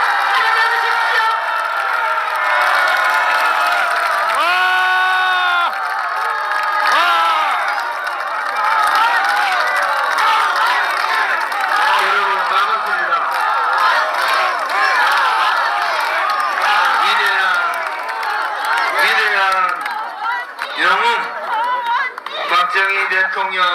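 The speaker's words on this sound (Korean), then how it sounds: "여러분 큰 박수 환영해 주십시오." A large crowd at an outdoor birthday commemoration ceremony at a former Korean president's birthplace in Gumi cheers and applauds in welcome, loud and continuous, with shouting voices and chatter layered over the clapping.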